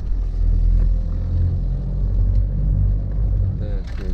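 A car pulls away with a deep, steady engine rumble heard from inside, loud and continuous, while people talk over it and a voice rises near the end.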